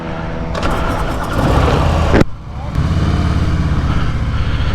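A 2020 Harley-Davidson Fat Boy with a 114 cubic inch V-twin runs loud and close. It revs, drops off briefly, then settles back into a steady, heavy throbbing rumble.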